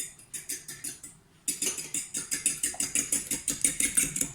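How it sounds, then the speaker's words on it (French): A fork whisks eggs in a bowl while making lasagne pasta dough, giving quick, even metallic clicks and taps. The strokes pause briefly, then resume at a steady rhythm, close and clear. "On va fouetter un peu les œufs."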